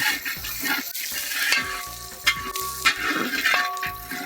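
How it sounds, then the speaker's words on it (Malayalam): Ginger, garlic and green chillies fry in a hot pan for a Wayanad-style curry, with a steady sizzle broken by several sharp clinks and scrapes of a spoon against the pan. "നമ്മൾ ഇഞ്ചിയും വെളുത്തുള്ളിയും പച്ചവളമൊക്കെ നല്ല രീതിയിൽ നല്ല മൂത്തിട്ടുണ്ട്"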